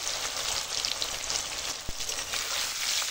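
Potatoes sizzle in hot oil for Bengali aloo dum, a steady dense hiss of frying that fills the whole stretch, with one soft knock partway through and no voices.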